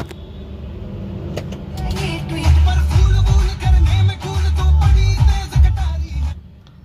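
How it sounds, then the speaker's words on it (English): A Volkswagen Beetle engine cranks and starts, settling into a loud, uneven low rumble with revving surges close by, after several seconds of clicks and faint cabin sounds. "Now let me just switch on the ignition of this car."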